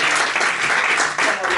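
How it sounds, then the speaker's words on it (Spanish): Audience at a university lecture on María de Zayas y Sotomayor applauding the lecturer, dense steady clapping close by. "Vamos a darle un fuerte aplauso."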